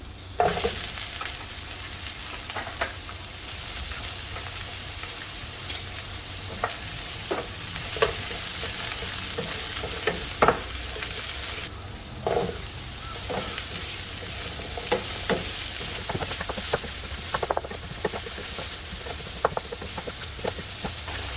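Garlic frying in a pan for a pasta dish, a steady close sizzle with intermittent clicks and scrapes of stirring throughout.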